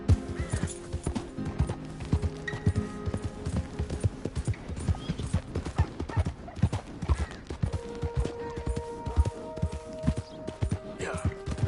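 A horse gallops in a PS4 video game, its rapid clip-clop hoofbeats running steadily throughout with an occasional whinny, while a man repeatedly urges it on over the top.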